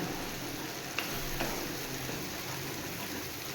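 Mankochu (giant taro) paste is stirred in a pan to dry it out, giving a steady, close sizzle with soft scraping touches from the spoon.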